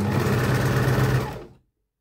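Home sewing machine stitching steadily at close range, a continuous mechanical whir that runs alone and then stops abruptly near the end.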